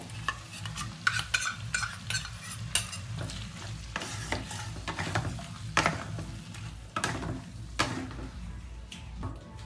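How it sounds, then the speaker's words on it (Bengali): Chilli chicken stir-frying with chilli, soy and tomato sauce, a soft continuous sizzle under frequent scraping and clattering of a spatula against the pan, steady and close. "এবার আমি এই যে একটা সস তৈরি করে রেখে চিলি সস, সয়া সস আর টমেটো সস দিয়ে এই সসটা দেবো।"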